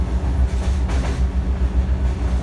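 A passenger train on the line out of Sanok rumbles steadily with a low, rhythmic clatter of wheels on track, heard close from inside the carriage, with no talking.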